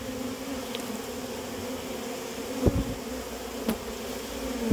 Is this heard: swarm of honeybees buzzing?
yes